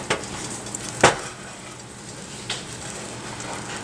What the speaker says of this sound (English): I'm just going to give this a quick little mix here.